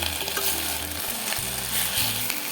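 Ingredients with tamarind sautéing in a pan for a Purattasi festival lunch dish, a steady close sizzle and frying hiss with occasional stirring scrapes.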